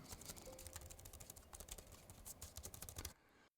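Steady, soft typing on a WisFox wireless keyboard with quiet, low-travel keys, rapid muted keystrokes, fairly close, continuing for about three seconds before stopping abruptly.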